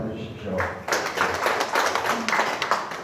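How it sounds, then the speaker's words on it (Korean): Participants at a civic academy discussion on North Korean market economics clap for a presenter, a modest round of close hand claps following a short spoken line. "박수 한번 보내주십시오"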